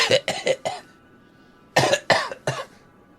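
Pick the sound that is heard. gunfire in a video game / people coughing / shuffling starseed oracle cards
people coughing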